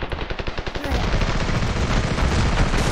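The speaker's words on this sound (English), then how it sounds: "I think they're bombing us" Bombing and gunfire in the Ravenfield war game: a rapid string of loud automatic shots gives way to a dense, continuous roar of blasts and firing, without a break.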